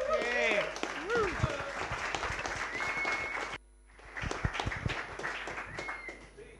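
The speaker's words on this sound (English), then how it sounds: "Big round of applause," Audience applause at a WordPress London meetup, a dense burst of clapping with a voice and some whoops over it, broken by a brief dropout before the clapping resumes and fades.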